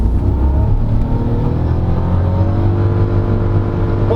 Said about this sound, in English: Okay, the engine kicked in.